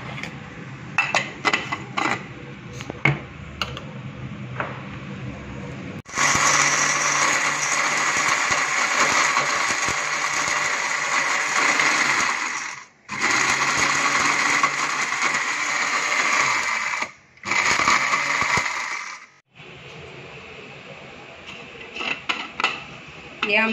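A mixer grinder pulverises dry-roasted whole spices for homemade chaat masala, running loud in long sustained bursts with brief pauses between, after a stretch of quieter handling clatter at the start.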